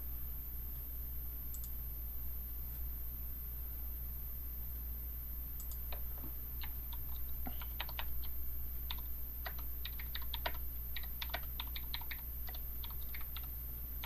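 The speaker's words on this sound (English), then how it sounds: "What are you typing?" Keys on a computer keyboard are typed in short irregular bursts of crisp clicks, fairly close but quiet, over a steady background hum, with no talking.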